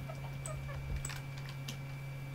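Chickens in the Minecraft game clucking softly, a few short scattered clucks over a steady low background hum, faint and brief.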